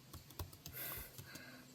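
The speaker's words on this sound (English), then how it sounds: "Matthew, it's a keyboard, come on." Keystrokes on a computer keyboard during a robotics programming session, a quiet scattering of soft clicks and taps in an irregular rhythm, faint and close.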